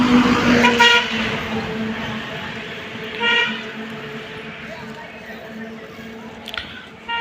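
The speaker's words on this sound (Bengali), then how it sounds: "এই যে একটা ট্রাক মাছের ট্রাক" A fish truck passes along a quiet village road, its engine rumbling steadily with a horn sounding at moments, moderately loud and close.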